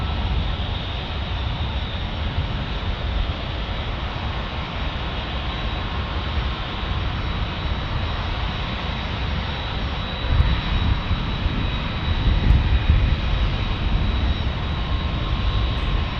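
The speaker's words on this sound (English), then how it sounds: "Alaska E-175 is the first to take the runway." An Alaska Embraer E-175 regional jet taking the runway at San Diego airport gives a steady, loud engine roar with a constant high whine, continuing unchanged throughout.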